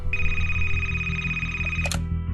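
A telephone bell rings in one sustained electronic trill over a low background hum, cut off abruptly near the end, fairly loud and close.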